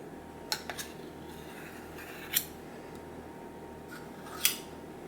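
A spoon clinks and scrapes against a bowl and jar while scooping peanut butter for copycat Nutter Butter cookies, three or four sharp close taps spread over several seconds against a quiet background.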